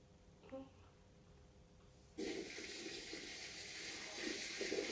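Fountain water by the sea, a steady broad splashing rush that starts abruptly partway through and continues evenly, close and moderately loud; a brief faint voice sounds before it.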